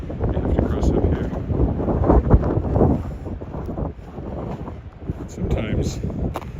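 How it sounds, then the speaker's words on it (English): Gusty wind buffets the microphone at a windy street corner beside a tall building on a snowy March walk in Regina, a steady loud roar that swells and dips throughout. "Oh, that wind."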